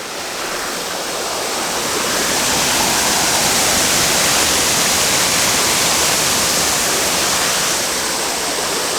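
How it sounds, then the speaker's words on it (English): A waterfall on a hiking route roars as a steady, loud, broadband rush of falling water, constant and close for the whole stretch, with no voices over it. "here we have what I think is the first and only waterfall"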